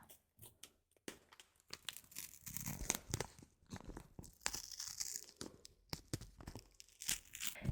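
A package being opened and torn close to the microphone for ASMR, with crinkling plastic, rips and crunchy rustles in irregular bursts separated by brief quiet gaps, and no talking.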